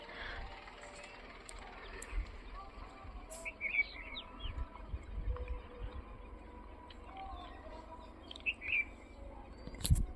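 Birds in a village at morning give a few short, high chirps, one burst near the middle and another near the end, fairly faint over a steady low rumble of distant traffic.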